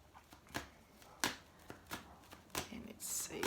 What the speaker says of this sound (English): So I'm shuffling now for Monday,